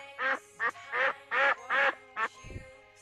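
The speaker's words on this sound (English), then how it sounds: "Duck." A duck quacks six times in a quick, uneven series, loud and close, followed by a soft low thump.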